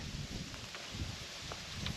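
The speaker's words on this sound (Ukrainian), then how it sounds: "Чортов вітер" Steady wind blusters against the microphone with low rumbling gusts and faint rustling at an outdoor fishing spot, no voices.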